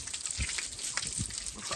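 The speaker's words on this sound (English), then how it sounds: "So let's get a bit of water spraying on the outside and see if it leaks." Water sprays against the outside wall of a house around a window reveal, a continuous hissing splash with uneven gushes, fairly faint and close.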